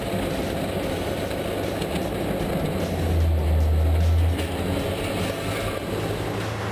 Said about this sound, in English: the Rotochopper B66 grinder is essential for wood waste recycling and large-scale biomass production